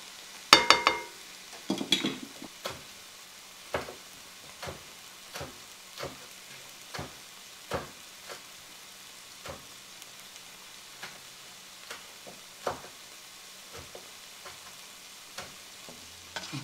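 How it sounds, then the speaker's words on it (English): Garlic browning in a frying pan, with a faint steady sizzle broken by sharp, evenly spaced pops and crackles that continue throughout. "I'm going to let this garlic brown for about 1 minute"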